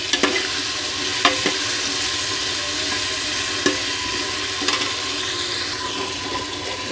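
Cut potatoes sizzling in a pan for savoury salted rice, a steady frying hiss with a few sharp clinks of a spoon against the pan, close and fairly loud, no talking.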